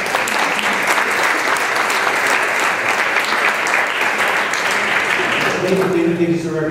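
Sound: audience applause at a symposium keynote

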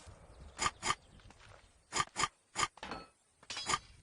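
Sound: computer mouse clicking

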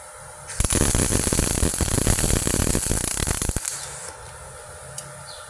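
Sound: MIG welding arc, gasless vs CO2 welding

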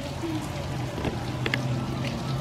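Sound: rain falling outside a back window

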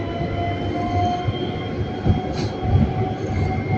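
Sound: metro trains passing at Triolo station

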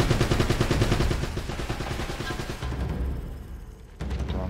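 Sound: machine gun fire in video game Uncharted: Drake's Fortune

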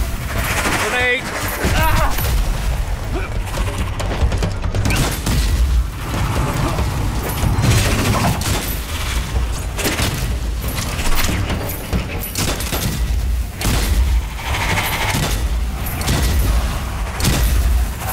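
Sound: grenade explosion and gunfire in the video game Strange Brigade

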